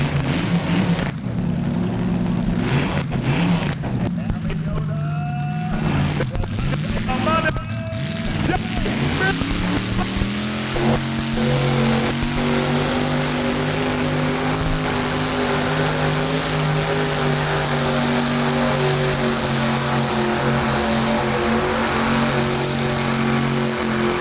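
A 450-horsepower pulling tractor roars at a truck and tractor pull competition, a loud sustained engine howl that climbs and holds steady for a long stretch, with an announcer's voice heard early on.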